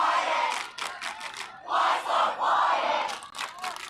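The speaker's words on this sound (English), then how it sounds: "Both crowds are into the game. They're loud, they're electric." Crowds at a high school football game roar and cheer in loud repeated surges, bursts of voices rising and falling over a few seconds.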